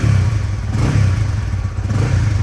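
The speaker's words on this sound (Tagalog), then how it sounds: "Napaka-responsive ng kanyang throttle." Honda Winner X motorcycle engine blipped by throttle, a loud close low rumble that swells in repeated revs over a steady idle, with no talk.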